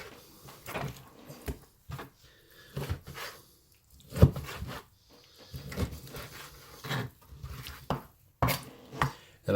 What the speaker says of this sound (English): I'm going to just cut these into pieces that we will use in our dish.